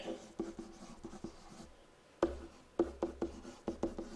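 Pen or marker strokes tap and scratch across a writing surface while a math problem is worked, short clustered scribbles with brief pauses, close and quiet, no talking.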